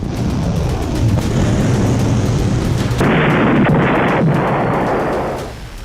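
Israeli anti-ballistic missiles intercept Houthi missiles in the sky, a loud continuous roar of blasts and rumbling booms that swells into a harsher burst partway through before fading.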